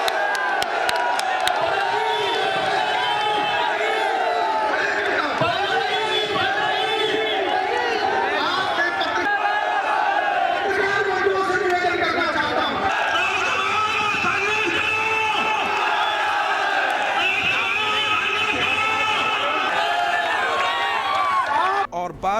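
A large crowd of about 15,000 at an outdoor political rally shouts and cheers together in loud, continuous waves, a dense roar of many voices filling the whole stretch.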